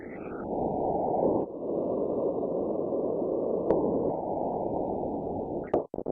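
Filtered white noise synthesized in the Borderlands Granular app on an iPad: a steady, band-limited hiss that holds even for about six seconds, with a couple of faint clicks near the middle and end.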